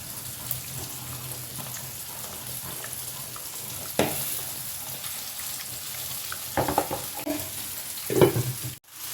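Catfish frying in a pan for Mangalore-style pulimunchi, turned over by hand: a steady close sizzle runs throughout, with a few soft knocks and handling noises near the end.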